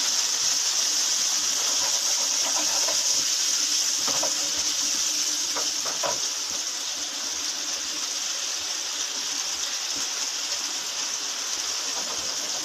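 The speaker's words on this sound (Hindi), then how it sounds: "अब हम इसमें 1 गिलास पानी डाल देंगे और इसको उबाल देके धीमी आंच पे रख देंगे।" A glass of water poured into a pot of fried fish for a fish broth sets off a loud, continuous hissing sizzle that holds steady throughout, close up with faint clinks beneath.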